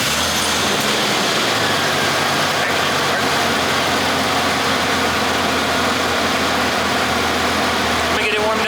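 A car engine idles steadily after a coolant top-off, warming up with a constant low rumble and a close, unbroken drone throughout.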